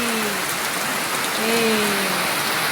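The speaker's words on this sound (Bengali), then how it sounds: "ঘর অনেক বৃষ্টি" Heavy rain pours steadily outdoors near a house, a dense continuous hiss of drops hitting surfaces, loud and unbroken throughout with a faint tonal whine in the background.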